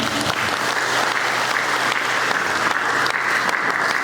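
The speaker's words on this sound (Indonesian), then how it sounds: "Tepuk tangan buat beliau." Applause from an audience at a public lecture on ethnopedagogy, welcoming the guest speaker, a steady dense clapping that holds at full volume throughout with no voices over it.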